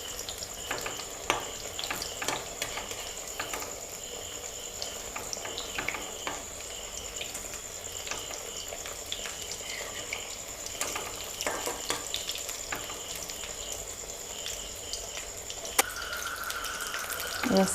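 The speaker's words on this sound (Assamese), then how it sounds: "এয়া চাওক, মই লৰাই দিছোঁ আকৌ এবাৰ।" White gourd coated in besan fries in a pan, a steady close sizzle broken by scraping stirs and clicks from the spatula, with no talking.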